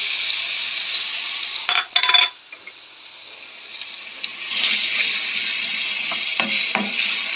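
Steady sizzling of potatoes frying in a pan, with a brief clatter of stirring partway through and the hiss continuing loudly afterward.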